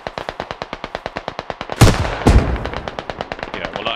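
A single explosion in a game goes off in two heavy close blasts amid rapid, steady automatic gunfire that keeps rattling before and after.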